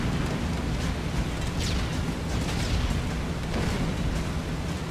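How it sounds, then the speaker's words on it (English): Flak exploding outside a WWII bomber in a flight video game, heard as a dense, continuous roar of engine drone broken by soft muffled bursts. "See the flak through the bomb site."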